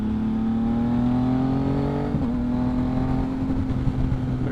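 A Yamaha MT-09 motorcycle fitted with a Two Brothers exhaust accelerates on a freeway on-ramp, its loud engine note climbing steadily with a quick-shifter upshift cutting in briefly midway; no one speaks.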